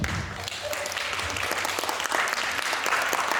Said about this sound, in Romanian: Puteți să le dați și lor o rundă de aplauze?